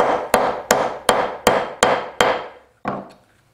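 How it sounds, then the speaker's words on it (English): A hammer taps rivets into a custom leather knife sheath: seven sharp, evenly spaced blows, each ringing out briefly, the last one softer after a short pause, with no voices. "we'll tap these rivets down"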